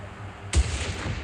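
A single sniper rifle shot fires in a survival island first-person shooter game, a sharp loud crack with a low boom, followed by a rumbling tail that fades slowly.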